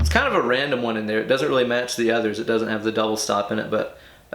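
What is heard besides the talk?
No everyday noises stand out.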